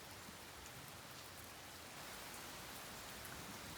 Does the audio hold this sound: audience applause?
no